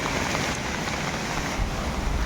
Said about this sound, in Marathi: पाऊस अजून थांबलायच नाही